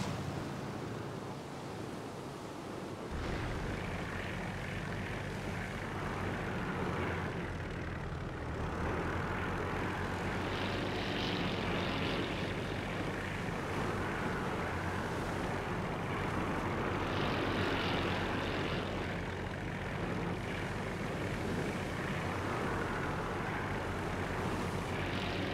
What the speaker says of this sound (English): Test your plane's handling.